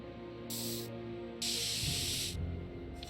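Spray paint can hissing in the Back to the Future video game, two distinct bursts, a short one and then a longer steady spray, close and fairly loud over a quiet low background hum.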